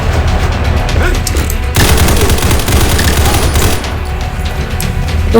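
Gunfire from the first-person shooter game Combat Masters, loud dense bursts of automatic fire with rapid repeated shots and booms filling the whole stretch, with no pauses between volleys.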